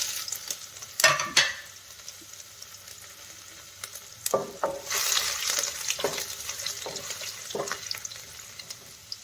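Ginger frying in hot oil for a cabbage and pea curry, a soft close sizzle broken by a few sharp clatters of a spoon against the pan and a louder burst of crackling partway through, with no talking.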